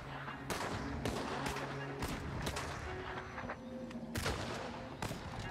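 Shotgun blasts in the World War II shooter Partisans 1941, a series of loud booming shots at irregular intervals over dense background combat noise.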